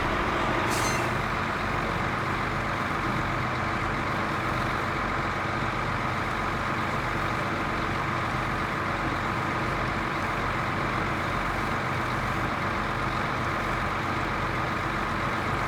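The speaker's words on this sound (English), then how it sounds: "I love the way this truck sounds." A truck drives along with a steady, loud engine drone and road rumble throughout, with a brief hiss near the start resembling an air brake release.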